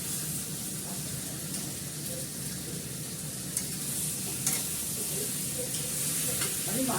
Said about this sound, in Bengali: কষাতে কষাতে তেল বেরিয়ে আসবে